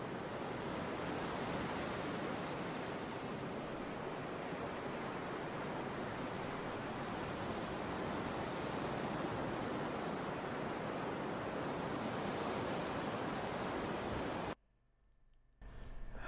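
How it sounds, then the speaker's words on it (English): Continuous wash of waves and surf, a steady broadband roar with a windy quality that runs unbroken for most of the stretch before cutting off abruptly near the end. "water sounds again."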